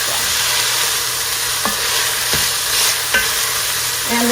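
Three garlic cloves and diced zucchini with squash fry in a pan, a bright continuous sizzle with a few spoon scrapes and knocks against the pan, close by with no voices.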